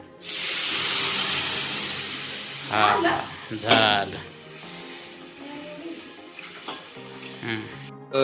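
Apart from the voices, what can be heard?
gram flour water poured into a hot pan, sizzling and stirred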